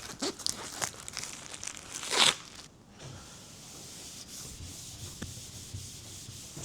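Chuck's Super Wipes shop towels dragged across bare metal on a car bonnet in a workshop, scattered rough rubbing and crinkling strokes with one louder swipe, close and alone.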